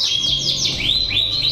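A canary chirps close and loud, giving a quick series of bright rising and sweeping tweets in steady succession.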